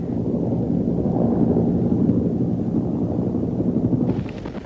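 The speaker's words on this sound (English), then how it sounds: "the Cobra helicopter developed for air attacks in Vietnam was a quiet helicopter" A Cobra attack helicopter flying, a loud, steady low rotor rumble with rhythmic chopping, continuous and close throughout.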